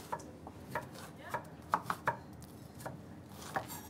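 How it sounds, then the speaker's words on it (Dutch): A knife chops half an onion finely on a cutting board, producing a scattered series of light, crisp taps, some in quick pairs, fairly quiet against a soft room background. "Klein mogelijk snijden, klein mogelijk snijden."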